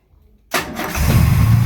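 A 1938 SS Jaguar 3½-litre drophead under restoration cranks briefly and catches, its engine rising into a rough, loud idle close by.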